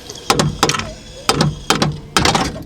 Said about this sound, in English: So you just probably need a mallet or a piece of wood or something to tap it to knock it off of where it's mounted